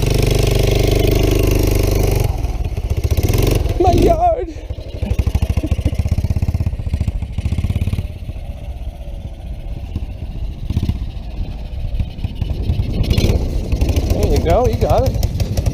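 A three-wheeler engine idles close by and revs in several bursts, rising and falling and nearly stalling, with a rough mechanical rumble and clatter throughout.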